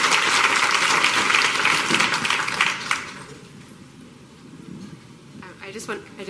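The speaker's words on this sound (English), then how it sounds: "please join me in giving our panelists a round of applause" An audience applauds panelists at the close of a women in cybersecurity discussion; loud clapping fades out after about three seconds, and a voice begins speaking as the room quiets.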